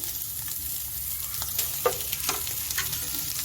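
Potatoes are frying in a pan with onion and chicken, a soft steady sizzle broken by scattered crackles and light stirring clicks, close and without voices.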